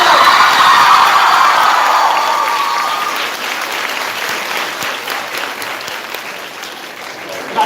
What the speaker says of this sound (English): This performance surely deserves another huge round of applause and a huge cheer.